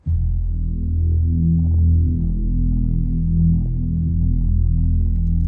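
A low, droning unmastered orchestral string passage with sustained deep bowed notes, steady and dark, with no voices.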